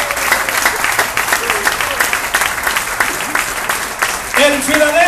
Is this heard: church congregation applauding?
yes